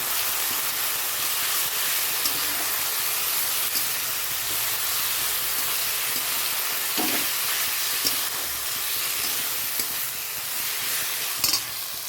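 Spices, onion and cumin paste fry in a hot pan with a loud, steady sizzle and hiss. Occasional scrapes and stirring knocks sound close by, with no talking.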